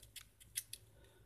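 Small scissors on a Buck X-Tract multi-tool being opened and worked, giving a few quick, faint metallic snips and clicks in quiet surroundings.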